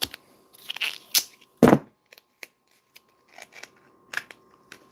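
Scissors snip through tape in a quiet room, a few short crisp cuts with light crinkling and rustle between them, close and alone.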